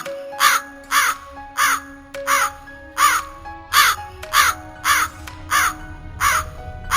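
A crow caws in a regular series of about a dozen harsh, loud calls spaced roughly half a second apart, close and clear against a quiet background.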